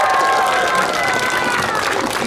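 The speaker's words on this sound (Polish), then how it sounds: "Te brawa, które słyszycie, to tylko dla was." Audience clapping and cheering at a street performance during a juggling and street-arts carnival, a loud, dense, continuous wash of hands with crowd noise and some voices mixed in.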